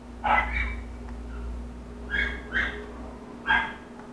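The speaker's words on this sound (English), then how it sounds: "Sorry about the dog, everyone. I don't know what happened to him. It will be very noisy." A dog barks indoors a few rooms away, four or five sharp yips in loose bursts over a low steady household hum.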